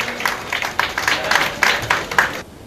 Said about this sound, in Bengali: সবাই জোরে একটু হাততালি দিন